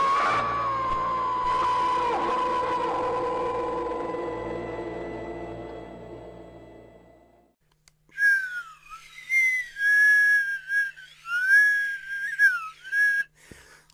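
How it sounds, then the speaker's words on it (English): Music fades out, then a slide whistle swoops up and down in several wavering glides, loud and close, with brief pauses between them. "the sad slide whistle doesn't sound as sad as it should IRL"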